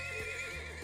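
A horse in the video game Trails of Cold Steel gives a short, clear neigh, with faint hoof clip-clop underneath.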